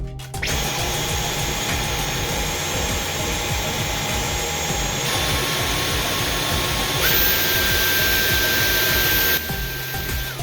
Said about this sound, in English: I would like to display the noise levels of the different modes that's available with this hoover